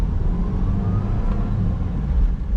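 An automatic 2009 Perodua Myvi 1.3 EZ pulls away and drives on, its low engine rumble and road noise holding steady and close throughout.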